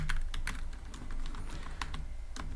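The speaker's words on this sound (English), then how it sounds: "I will type def delete" Python code being typed on a computer keyboard, a quick irregular run of crisp key clicks with short pauses between bursts, close but soft over faint low room hum, no voice.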